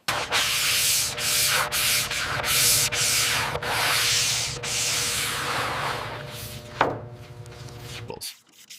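Steady, close rasping of hand sanding body filler on a 1971 Chevrolet Chevelle SS, strokes rubbing back and forth in a continuous rhythm before stopping abruptly.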